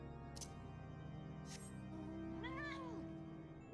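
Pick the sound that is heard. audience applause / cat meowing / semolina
cat meowing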